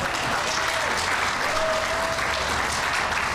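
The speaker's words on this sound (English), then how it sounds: "let's just give them a round of applause" A civic event audience applauds the speaker's wife, children, parents and siblings, a dense, steady wash of many hands clapping close and loud throughout.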